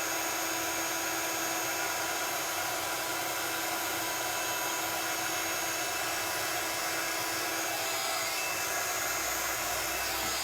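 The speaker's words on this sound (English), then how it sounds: "we're going to hold the heat gun still. And then as soon as that powder starts to melt and change, we're just going to move the heat gun over the image" A heat gun blows steadily over embossing powder on a stamped wedding card, melting it; a continuous, even airy whoosh holds at a constant level the whole time, with no talking.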